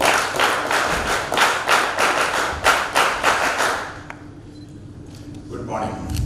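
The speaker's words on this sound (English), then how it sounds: "Clap, 1, 2, 3." A gathering claps together in a loud, rhythmic run of about a dozen evenly spaced beats on a count, then stops abruptly, leaving room tone and a faint voice.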